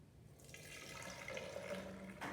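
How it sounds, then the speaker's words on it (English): Soil suspension pouring steadily from a cup into a measuring cylinder, a close, continuous trickling stream that ends abruptly. "Take the contents from the cup and then pour it in the measuring cylinder."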